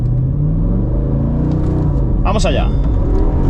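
A Mercedes SL 63 AMG R230 with a naturally aspirated V8 pulls away at full throttle, its loud, continuous engine roar filling the whole stretch while a voice briefly calls out over it.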